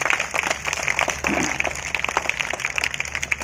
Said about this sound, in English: Yeah, all of you clap. All of you clap.